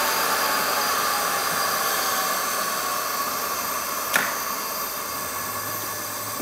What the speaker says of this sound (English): You can see it spinning freely in there. It's obviously powering down.